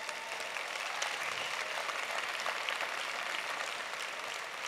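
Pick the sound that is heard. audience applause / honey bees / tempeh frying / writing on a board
audience applause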